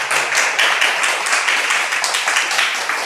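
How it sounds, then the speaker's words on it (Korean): Audience applause for a guest lecturer at a mission studies lecture, steady dense clapping filling the room without pause from start to finish, loud and close. "우리 감사의 박수 한번 올려주시면 좋겠습니다"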